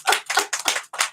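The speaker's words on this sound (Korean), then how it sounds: "방청객들에게 박수 한번 치고" A small studio audience of two claps for a few seconds on a talk show set, five quick dense bursts of hand claps, close and loud with no talk over them.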